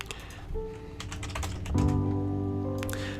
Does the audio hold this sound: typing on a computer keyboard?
yes